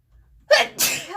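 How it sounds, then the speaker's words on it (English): A single loud, close human sneeze in two quick bursts, a short intake followed by the explosive release, heard alone against a quiet room. "Oh, I can sneeze."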